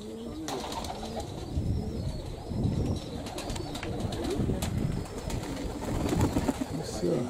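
Pigeons coo in a dovecote, low throaty calls rising and falling repeatedly at close range, with wing flutters, chirps and occasional voices talking in between.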